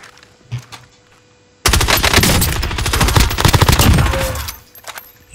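Rapid automatic gunfire from a shooting video game bursts in after a quiet start, a loud dense rattle of shots lasting about three seconds before tapering off.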